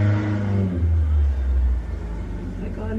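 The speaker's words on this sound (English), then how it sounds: "oh my god, my neighbor and their noisy ass car." A neighbor's noisy car revs outside, a deep droning rumble with shifting low harmonics that swell and then ease off, fairly loud and continuous throughout.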